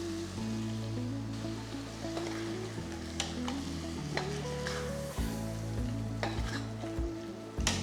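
Donne chicken biryani masala paste sizzles in the pot as water from the mixer jar is poured in and stirred, a steady crackle with spoon scrapes and clunks over a low background hum.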